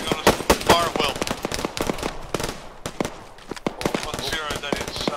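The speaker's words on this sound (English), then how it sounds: "Firing on us. Fire at will." Sharp, cracking rifle and machine-gun fire from an Arma 3 firefight, many close shots in irregular bursts, with radio-style voices talking over the gunfire.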